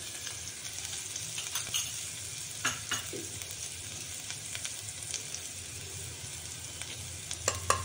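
Ground spice paste with asafoetida frying in a little oil for horse gram soup, a steady close crackling sizzle with occasional stirring scrapes and pops, no voices.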